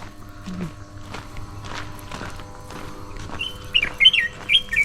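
Small birds chirp in short bright bursts, growing busier toward the end, while soft footsteps and faint rustling continue underneath, outdoors in the Konkan hills where the birds nest.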